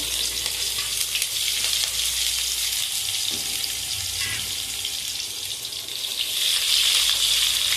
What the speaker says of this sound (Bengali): এই তেলেই আমি এবারে পেঁয়াজগুলোকে ভেজে নিচ্ছি বেরেস্তা করার জন্য